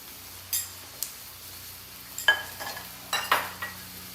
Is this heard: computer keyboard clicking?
no